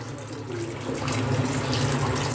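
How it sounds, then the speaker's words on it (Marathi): Hot water is poured into butter chicken cooking in a pan, a continuous close splashing stream that grows slightly fuller as it goes. "आता आपण यामध्ये थोडंसं गरम पाणी ऍड करूया"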